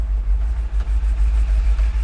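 A 1969 Plymouth GTX on radial tires drives along with a deep, steady low engine rumble heard from inside, loud and continuous with slight pulsing, no voices.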